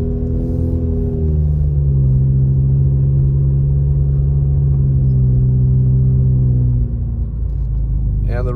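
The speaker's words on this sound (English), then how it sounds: "the reason my vehicle is so loud, you guys, is because I had to have the muffler taken out to make room for my train horns" A vehicle driving with its muffler removed to make room for train horns, in snowy Upper Moon Ridge near Big Bear. It gives a loud, deep, droning engine rumble that rises and falls in pitch throughout, with talk heard over it.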